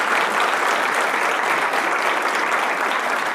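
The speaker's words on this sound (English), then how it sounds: "if we could just give him a round of applause for making this front and center" Audience at a congressional luncheon applauding: dense, steady clapping from a room full of people, loud and continuous throughout with no speech over it.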